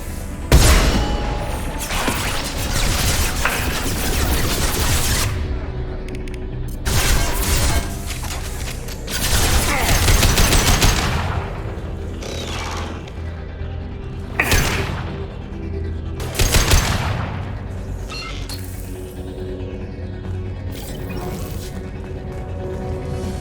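A hacked turret fires in the Mass Effect 2 video game, with repeated booming bursts and mechanical crashes over a steady rumbling battle din, loud and close, with a synthetic voice speaking at times.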